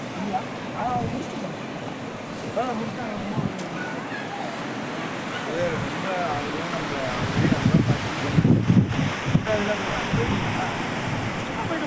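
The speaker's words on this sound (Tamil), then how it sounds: "கடல்" Sea waves of the Bay of Bengal at Tharangambadi rush and roar steadily along the shore, a dense, close wash of surf mixed with gusting wind buffeting the microphone, with brief louder surges near the end.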